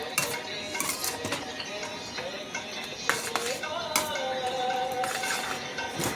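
A spoon stirs godhumai rava upma in a metal pan, giving steady scraping with frequent light clinks and taps against the pan, fairly close, with soft kitchen noise around it.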